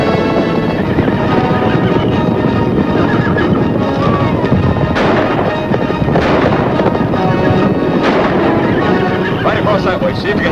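Horses whinny and gallop in an old 1951 Western film, loud hoofbeats and neighing mixed with bursts of gunfire and a busy soundtrack.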